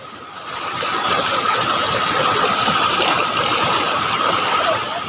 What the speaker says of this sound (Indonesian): Lihat air terjunnya ya, sangat indah kelihatannya ya.